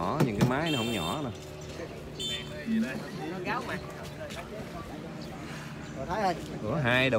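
A small canoe driven by two motor engines runs during a Tet military-civilian boat parade in Phong Dien district, its steady engine drone continuing beneath loud nearby talk.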